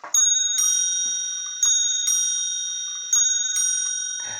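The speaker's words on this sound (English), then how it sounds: "This is a really amazing clock. Okay, here comes the 3/4 hour." An antique mechanical clock strikes the three-quarter hour, its small hammers hitting bright, ringing bells in several sharp strikes that sustain and overlap, close and clear with no talking.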